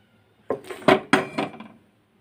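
A cooking pan for raw banana curry is set down on a stove, giving a few quick, close metallic clanks and clinks over about a second before quiet.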